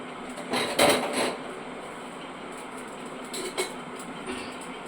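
A kadai pan is set down on a home kitchen stove with a couple of clattering metal knocks, followed by softer clinks and faint kitchen background noise.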